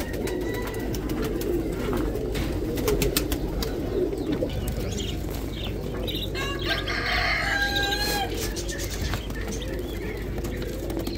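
Pigeons at a bird market in Kadhimiya, Baghdad, cooing and fluttering amid a busy crowd murmur, with occasional sharper bird calls and distant rooster-like crowing.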